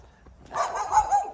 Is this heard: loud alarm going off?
no